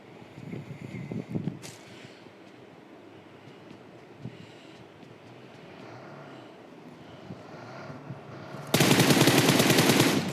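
Rapid gunfire in PUBG Mobile finishing off a knocked enemy, dense rattling bursts at close range over continuous ambient rumble, ending in a loud sustained blast of noise.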